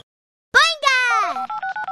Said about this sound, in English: A little Martian was calling you the whole time on her mommy's cell